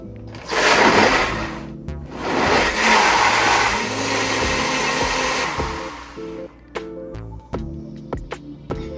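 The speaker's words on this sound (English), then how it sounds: "let's press the button" A Beast personal blender motor whirs loudly in two strong bursts that settle into a sustained roaring hum, then cuts out, leaving a few sharp clicks and knocks.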